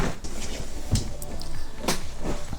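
A cluttered bedroom or dresser drawer is pulled open, with a few knocking, rattling thumps and shuffling of contents, close by and moderately loud with no talking.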